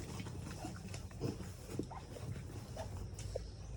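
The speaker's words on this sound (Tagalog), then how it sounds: "Mga nakahiga po yung baboy." Faint grunting and snuffling from pigs lying down at close range, soft and intermittent over low background noise.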